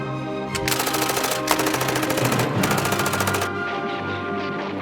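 Sustained bursts of machine gun fire mixed with heavier gunfire, a war-documentary battle effect set at a Gallipoli beach landing, loud and dense with rapid repeating shots that break off briefly and then fade.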